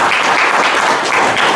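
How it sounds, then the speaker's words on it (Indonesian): A room full of people at a meeting between dairy farmers of UD Saputra Jaya and PT Indolakto breaks into loud, dense applause, a steady wash of many hands clapping close by without pause. "Luar biasa Pak, tepuk tangan Pak."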